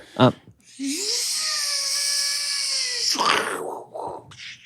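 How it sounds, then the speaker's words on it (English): A high-pitched whining drill runs steadily for a couple of seconds, then cuts off into a rough clattering crash, with a short vocal sound beforehand. "That was the drill breaking."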